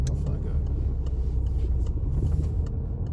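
A learner driver's car on a test route moves off from a stop along a road, a steady low engine rumble and road noise running throughout under a talking voice.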